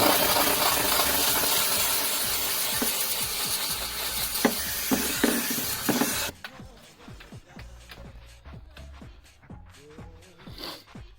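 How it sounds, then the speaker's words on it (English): A steam cleaner hisses loudly and continuously while cleaning a BMW E39 M5, with small taps and clicks underneath, then cuts off abruptly, leaving quieter handling noises. "One thing about steam cleaning is obviously the steam starts to really build up in the area that you are trying to do it"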